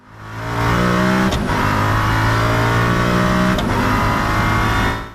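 Koenigsegg One:1 mega car engine revving loudly and continuously, a steady high-pitched roar with a couple of brief gear-shift dips, close and without voices.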